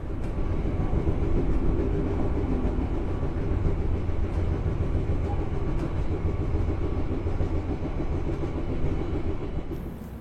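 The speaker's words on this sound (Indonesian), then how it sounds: "perjalanan kereta api Gaya Baru Malam Selatan yang saya naiki kini telah tiba di stasiun Madiun" The Gaya Baru Malam Selatan economy passenger train, heard from on board, rumbles steadily along the rails, a loud continuous low roar with faint rhythmic clatter, no voices, easing slightly at the end.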